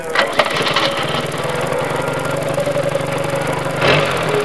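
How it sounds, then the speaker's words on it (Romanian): An engine starts and settles into a steady, fairly loud running rumble, with a few sharp knocks near the start and a brief surge toward the end. "Da drumul la motor."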